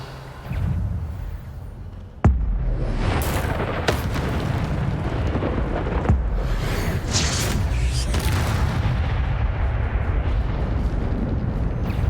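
A spell burst from the Hogwarts Legacy video game: a sharp crack around two seconds into a low, sustained rumbling roar, with further booming surges through the rest of the clip.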